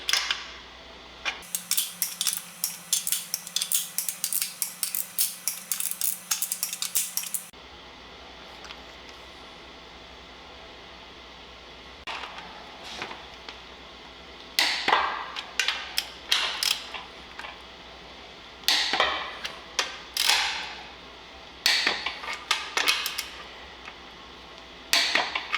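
Torque wrench tightening Datsun 520 engine bolts, bursts of rapid ratcheting clicks, close and fairly loud, separated by quiet pauses and a few sharper metallic clicks.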